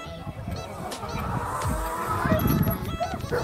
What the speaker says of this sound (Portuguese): Olha os gansinhos, bem, olha lá.